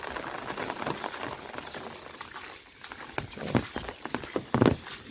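Heavy torrential rain patters steadily on open ground and farm fields, a dense hiss broken by sharper, louder splashes and drips toward the end, with no voices.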